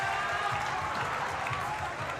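A crowd at a women's bouldering semi-final of the 2022 European Championship in Munich applauds and cheers as climber Katia comes down, a dense, continuous wash of clapping with a commentator's voice running over it.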